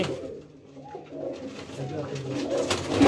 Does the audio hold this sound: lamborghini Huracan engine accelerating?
no